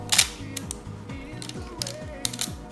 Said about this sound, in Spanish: Tenemos el botón de avance, que es de delicioso sonido. Y tenemos un obturador de los más silenciosos del mercado